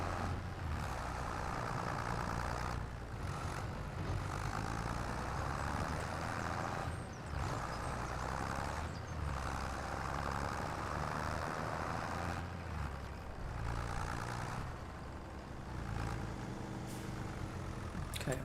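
A small tractor in Farming Simulator 25 strains under a heavy load of 5,000 litres of stone, its engine droning steadily and loudly with slight dips in pitch over a long stretch, with no voices.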